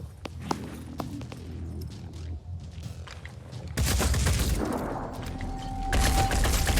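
Rapid gunfire exchange in the turn-based tactics game Phoenix Point, dense bursts of shots and booms that grow louder and more intense midway, with a sustained tone near the end.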